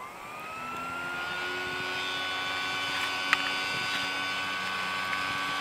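A fan-assisted wood stove blower runs with a steady, even whir and a faint whine, holding constant throughout with a few small clicks near the end.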